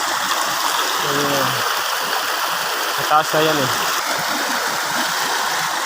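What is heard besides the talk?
flowing river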